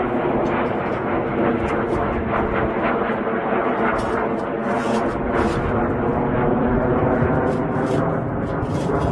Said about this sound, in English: There's two aeroplanes now coming over.